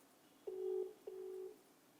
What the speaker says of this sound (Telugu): ఒకసారి ఆయన కోటంరెడ్డి గారు మళ్ళీ ఫోన్ చేస్తున్నారు